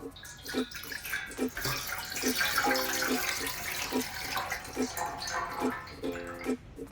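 Water pours and trickles into a container for a kids' soap boat experiment, a soft, close splashing flow under a light repeating tonal pattern.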